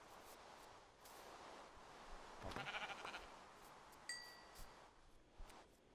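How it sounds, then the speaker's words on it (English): A faint Minecraft sheep bleat wavers briefly midway through a quiet, noisy background with a few soft clicks and a thin tonal blip. "Okay, there's a sheep."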